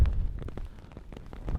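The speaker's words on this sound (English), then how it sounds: "I'd rather it wasn't raining at all, because now I'm getting very cold." Heavy rain drums down outdoors in a desert survival setting, a close, rumbling wash with scattered sharp drops and gusty low-end buffeting.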